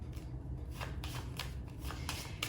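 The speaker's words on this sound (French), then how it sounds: "je vais remettre une carte là" A tarot card is placed and the deck shuffled during a reading, a few close, quick papery riffles and slaps in short bursts, with no talking.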